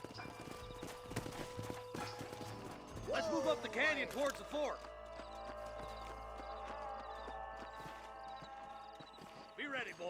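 Horses walking in Red Dead Redemption, hooves clip-clopping in a steady, moderately close rhythm beneath a voice and game music.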